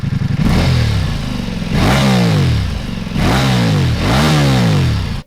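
A BMW R1300GS boxer twin motorcycle engine revs loudly and close by, four rising-and-falling bursts of throttle over a steady, throbbing idle.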